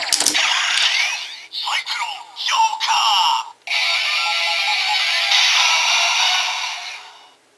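A sequence of electronic sound effects from a Kamen Rider W Driver toy transformation belt: whooshing, clicking mechanical noises, then a long bright synthesized burst that fades out.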